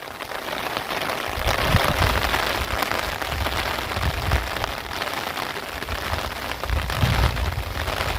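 Heavy storm rain pours down in a dense, continuous roar on surfaces nearby, with occasional low rumbles beneath.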